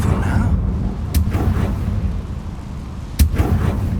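Two sharp blasts of the Confringo spell burst out in Hogwarts Legacy, each a short crack over a constant low rumbling background, the second slightly louder.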